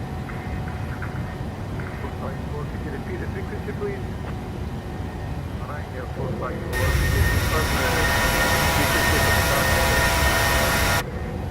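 PMDG 737-800 jet climbing out after takeoff from Gatwick in Microsoft Flight Simulator, steady engine roar that swells louder partway through and holds under intermittent cockpit talk.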